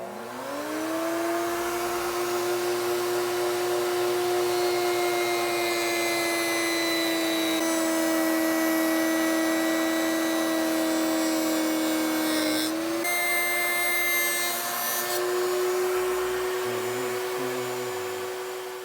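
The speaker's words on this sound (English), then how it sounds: "We're ready to run this neck across the router table and get our perimeter shape cut." A router table cutting the perimeter shape of a guitar neck gives a continuous loud, close motor whine that dips in pitch under load as the wood is fed through, sustained for the whole stretch.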